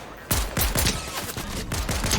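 Rapid bursts of sniper and gun fire from a Fortnite match crack repeatedly in a dense, fast rhythm, loud and close, with no talk over them.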